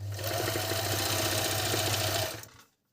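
A Dragonfly GN1-114D overlock sewing machine stitches fabric in one steady, fast, loud mechanical run of about two and a half seconds, then stops and fades into silence.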